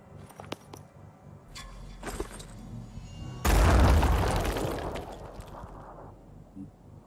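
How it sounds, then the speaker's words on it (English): A grenade goes off in the turn-based strategy game Phoenix Point: a sudden loud, booming blast that decays over a few seconds with rumbling debris, preceded by quiet scattered clicks and small game sounds. "Throw your grenade in here."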